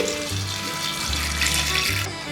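Water pours steadily from a tap into a pot of potatoes and beans being readied for boiling for pav bhaji, a continuous close rushing splash with a low ringing hum beneath.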